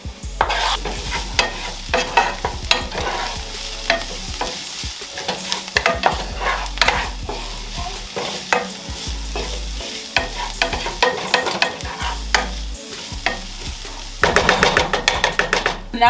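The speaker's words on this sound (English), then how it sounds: "You can go ahead and just throw it in the skillet with the onions." Onions and chopped garlic cook in a skillet with a steady close sizzle, broken by many quick scraping stirs and knocks of a utensil against the pan, getting busier toward the end.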